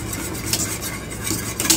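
A whisk stirs custard in a pot as it boils and thickens for an Italian rum cake, making steady scraping, clinking strokes against the metal at close range with no talk.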